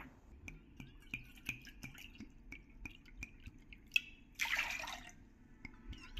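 Water is poured into a bowl of curd to thin it into buttermilk for Vidarbha-style kadhi gole. Light drips and small taps lead to a short, close splashing pour before a few more drips.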